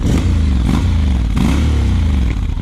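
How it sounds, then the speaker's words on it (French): A 2021 Honda X-ADV scooter idles in neutral with its engine running close by, a loud, steady low thrum with faint mechanical clatter and a couple of slight swells, no voices. "Franchement il fait un très beau bruit, il n'y a pas besoin de mettre une ligne sur les XADV."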